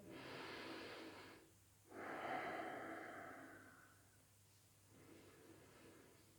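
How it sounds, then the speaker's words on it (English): Slow, deep yoga breathing during a gentle class with twists: long, soft, drawn-out inhales and exhales, very quiet and close, with pauses between breaths. "Keep breathing."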